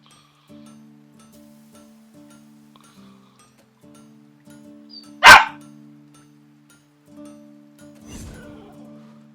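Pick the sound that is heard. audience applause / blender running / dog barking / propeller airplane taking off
dog barking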